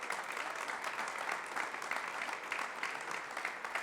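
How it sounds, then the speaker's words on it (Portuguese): Church congregation applauding during a sermon, continuous fairly faint clapping from many hands with an even, pulsing texture and no speech over it. "Aplauda direito aí, querido, pelo amor de Deus."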